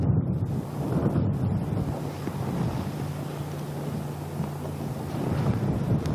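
Steady gusty wind buffets the microphone outdoors on a golf course during a professional women's golf tournament, a continuous loud rushing roar with swells, no voices.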